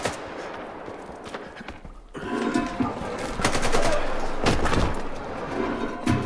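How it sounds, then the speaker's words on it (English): Rapid automatic gunfire in the shooter game STALKER 2 rattles in dense bursts, loud and close, with a brief lull before a sustained stretch of overlapping shots. "He's shooting Ward."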